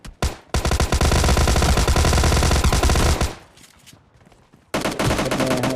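Rapid automatic gunfire during a fight in PUBG Lite, loud sustained bursts that cut out abruptly, pause, then resume with another close burst.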